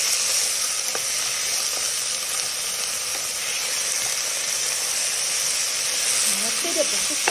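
Onion frying in oil in a home kitchen pan, a steady soft sizzle and hiss running throughout with faint scattered clicks, no talking over it.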